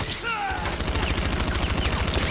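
Enemy guns in Batman: Arkham Knight fire a rapid, sustained burst of automatic gunfire, loud and close, rattling steadily after a brief voice at the start.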